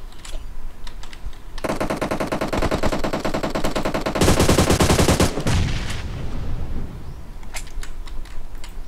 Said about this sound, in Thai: นี่ไงมันยิงกันแล้วฮะ